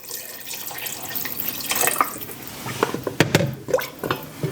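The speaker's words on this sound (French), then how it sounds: "Je viens rajouter de l'eau pour que ça recouvre mes légumes." Water poured into a pot over chopped vegetables for carrot soup, a close steady splashing gush that thickens and bubbles as the pot fills, with no talk.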